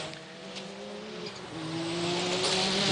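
A Ferrari F40 race car at Le Mans in 1994 spins a full 360, its engine note rising and holding steady at a distance amid faint tire noise and track ambience.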